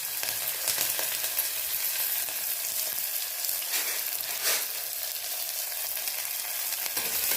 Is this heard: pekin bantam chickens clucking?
no